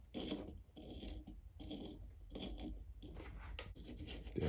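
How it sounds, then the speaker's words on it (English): A drill bores through an insulation foam wall of a model railway building in short repeated bursts, a close, rasping grind that starts and stops roughly every half second to a second. "So drilling through here will be rather easy."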